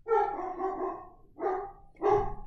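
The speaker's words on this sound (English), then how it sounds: "my dogs are barking in the background" Dogs bark close by in a home, one long drawn-out bark followed by two shorter ones, loud and unaccompanied by talk.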